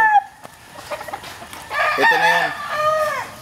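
Fighting roosters at a cockfight crow repeatedly, with long drawn calls rising and falling across the clip, mixed with clucks and a busy background of crowd noise and brief speech.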